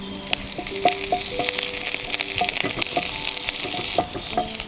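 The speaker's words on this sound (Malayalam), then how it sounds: "ഇനി നന്നായിട്ട് നമുക്കൊന്ന് ഫ്രൈ ചെയ്തിട്ട് കപ്പയിലേക്ക് ഒഴിച്ചു കൊടുക്കാം" Mustard seeds, shallots, dried chillies and curry leaves frying in hot oil for a Kottayam-style tapioca biryani tempering: a loud, dense crackling sizzle with sharp pops and spatters, close and continuous.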